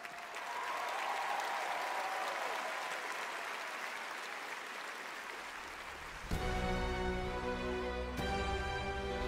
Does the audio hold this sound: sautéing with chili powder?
no